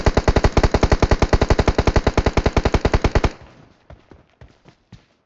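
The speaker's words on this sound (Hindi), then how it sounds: "फायर कर रहा है।" A long rapid burst of automatic gunfire in a video game shooter fight, loud and close, with evenly spaced shots for about three seconds, then a few scattered single shots and fading echoes.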